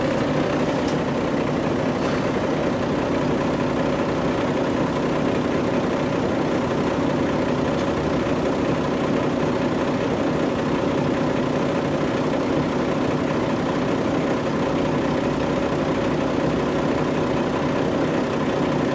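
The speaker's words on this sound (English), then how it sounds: "this engine cranks up lots and lots of times." A Mercedes-Benz O305G articulated bus engine idles with a continuous, even diesel rumble, steady and close throughout with no talk over it.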